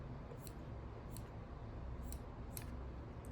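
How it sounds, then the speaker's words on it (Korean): Small scissors snip stray fuzz from chenille stems while a pet keychain is being shaped, four quick crisp snips spaced about half a second to a second apart over a faint quiet background. "이거를 가위로 조금 잘라보겠습니다"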